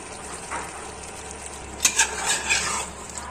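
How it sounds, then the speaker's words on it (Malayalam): Chicken masala with pepper powder is stirred in a hot pan, a low sizzle beneath a few quick scraping strokes of the spoon, close and fairly soft. "നമുക്ക് നന്നായിട്ടൊന്ന് ഇളക്കി കൊടുക്കാം."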